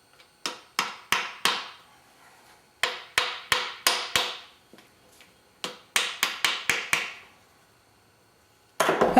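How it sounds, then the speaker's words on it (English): A brass hammer taps an engine main bearing cap during a Lola T492 engine teardown, sharp metallic knocks in three groups of four or five evenly spaced hits, close and clear with quiet gaps between. "We tap on the main cap lightly with the brass hammer to loosen it up."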